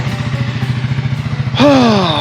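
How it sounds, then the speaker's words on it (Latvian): A touring motorcycle on a road trip through Turkey and Georgia chugs at idle with a steady pulsing beat, then revs up sharply near the end, close and loud. "Ar 2 dienu pārtraukumu atkal mocis ir ierūcies."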